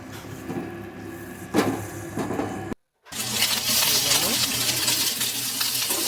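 Fish frying hard in hot oil in a home kitchen, a dense continuous crackling sizzle that follows a brief quieter stretch and a short gap, staying loud and steady to the end.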